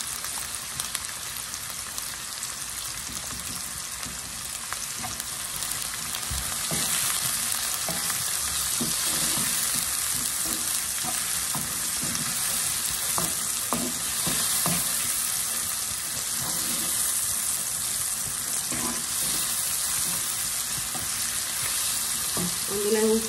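Potatoes frying in a pan with turmeric, green chilli and onion, a long, even, crackling sizzle with occasional soft stirring clicks, steady and close with no talk.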